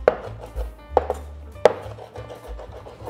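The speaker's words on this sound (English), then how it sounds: "I'm just chopping some parsley" A knife chops parsley on a cutting board in a home kitchen, a few sharp, close knocks spaced irregularly between softer scraping sounds, with no talk.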